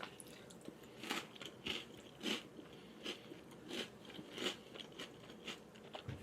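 Crisp General Mills Loaded cereal being chewed up close, a series of faint, regular crunchy bites repeating roughly every half second with no talking.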